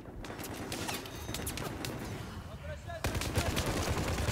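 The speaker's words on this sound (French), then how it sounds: "ils mettent des tirs assez précis" Gunfire in Battlefield 4 during a Conquest match on the Siege of Shanghai map: rapid, overlapping shots crackle continuously, with a louder surge of fire in the second half and a voice talking over the battle.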